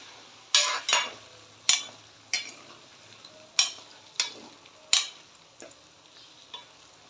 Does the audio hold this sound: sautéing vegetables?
yes